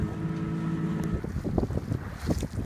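A sailboat runs under sail at night in a steady southeast breeze, with water rushing along the hull and wind buffeting the microphone, close and continuous.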